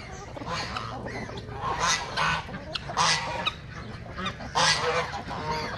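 Several geese honk in bursts, loud and nearby, repeating every second or so over faint background noise.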